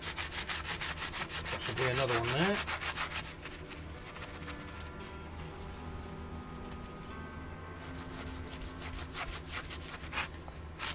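Steady rasping sanding on a caravan wheel, close by, with a brief voice near the start and a continuous rubbing texture throughout.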